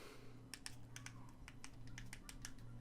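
Someone types on the small QWERTY keyboard of an air mouse TV remote, a quick run of close, crisp plastic key clicks in an uneven rhythm with no talk.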